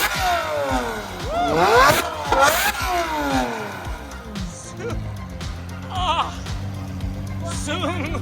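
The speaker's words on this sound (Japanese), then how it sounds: "ちょっとエンジン効かせて。" A car engine revs up with rising and falling roars, close by, over steady idling rumble and people talking nearby.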